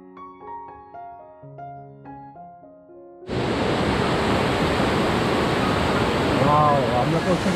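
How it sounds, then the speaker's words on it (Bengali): After a short musical passage, a loud, steady rushing roar of water from the Na-Kata waterfall near Muppochora takes over abruptly and continues unbroken, approached by boat. "ঝর্ণার শব্দ অলরেডি শোনা যাচ্ছে কাছাকাছি"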